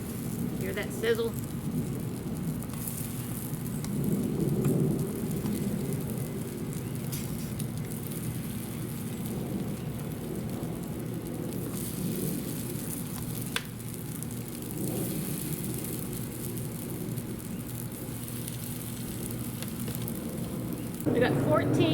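Salmon patties sizzle in a little oil on a Camp Chef griddle, a continuous crackling hiss with occasional pops, moderately loud and steady under a background hum.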